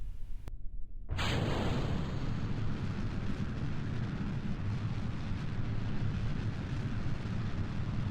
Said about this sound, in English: since these are solid rocket boosters, you ignite them and go